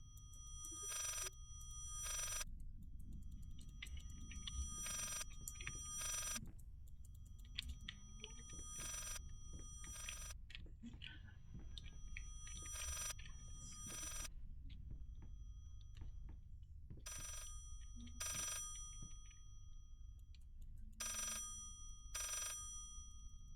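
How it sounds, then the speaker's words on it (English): An old telephone bell rings in a horror video game in repeated paired bursts, loud against a low, dim rumble, with no talking. "The phone is ringing."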